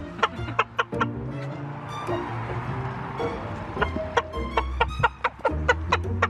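Chickens cluck close by in short sharp bursts, several birds calling in quick irregular succession over a low murmur of background noise.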